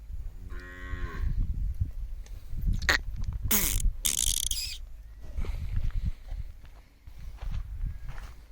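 A cow on a farm lets out a short moo near the start, followed by a louder drawn-out bellow, with shuffling, hoof and handling noises around it.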